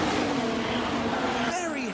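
An F1 car in the F1 Manager 23 video game at the Bahrain Grand Prix brakes hard into a corner, its loud engine note dropping steadily in pitch over two seconds as the car slows, with a voice talking over it.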